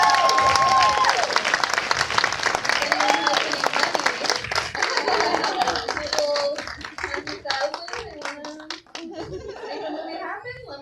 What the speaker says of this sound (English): So let's just clap to that.